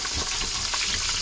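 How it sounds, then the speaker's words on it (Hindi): Chicken pieces frying in hot oil, a steady close crackling sizzle with no talk over it. "सेकंड बैच में मैं दोबारा चिकन डालकर"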